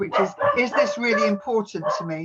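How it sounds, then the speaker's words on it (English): A dog barks indoors, with sharp yips mixed under a person's continuous nearby talking, the barks partly masked by the speech. "Sorry if you can hear my dog barking."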